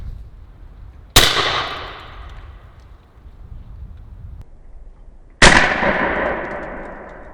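Two sharp, loud blasts from an AEA 12 gauge magnum harpoon air rifle firing number 7 shot, each a sudden crack with a hissing tail, spaced about four seconds apart over quiet outdoor ambience.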